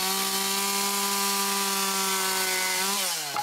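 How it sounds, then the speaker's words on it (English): A chainsaw trims the ends of timber joists on a garden room flat roof, its engine droning steadily at close range before dropping in pitch near the end as the cut finishes. "we'll get the chainsaw and we'll whip them off"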